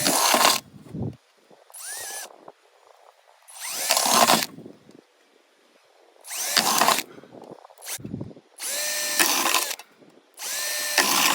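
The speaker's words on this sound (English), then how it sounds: "Now we're ready to make 5/8 inch holes." A power drill bores 5/8 inch holes in metal for a hobo stove, in several loud bursts separated by pauses, each whine rising and falling as the bit spins up and winds down.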